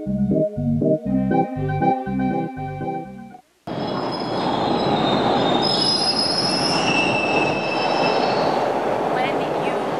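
A Toronto subway train runs with a rhythmic tonal whine at first, then after a brief cut its wheels squeal loudly and shrilly along the track over a steady rumble.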